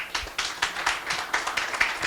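Audience applause greets the chair of a formal gathering, a steady run of fairly close, even claps with a loose rhythm lasting about two seconds.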